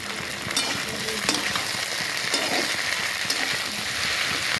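Mixed vegetables frying in a pan give a steady, dense sizzle, with occasional spoon scrapes and clicks breaking through, close up and without talk, stopping abruptly at the end.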